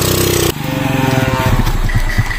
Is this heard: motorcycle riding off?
yes